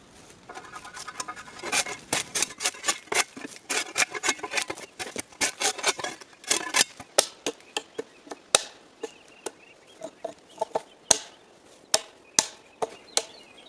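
Bark is scraped and chopped off logs with a shovel in a forest, a long series of sharp, close scraping strikes in an uneven rhythm, sometimes in dense bursts and sometimes spaced out.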